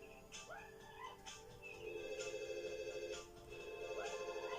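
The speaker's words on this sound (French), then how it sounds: "Il y a le téléphone qui sonne, mais on s'en fiche," Electronic telephone ringing in The Sims video game on PS2, repeating rings over a background of game music with chirpy melodic sounds.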